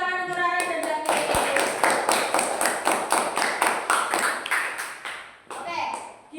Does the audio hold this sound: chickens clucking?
no